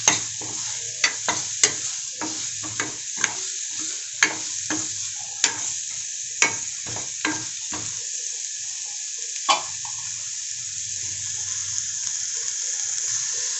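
Carrots being stirred into cooking daliya (broken wheat) in a pan: a rapid run of crisp scraping strokes over a steady background hiss, then the strokes stop and the hiss continues alone.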